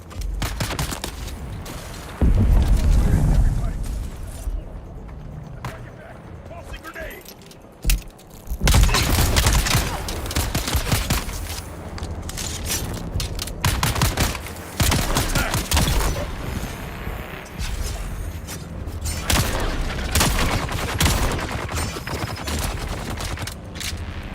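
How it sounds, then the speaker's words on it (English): Grenade blast and gunfire in the Dune Awakening video game, loud bursts of rapid shots and a heavy thump, dense and continuous throughout, with no talk. "Apparently he's tossing a grenade."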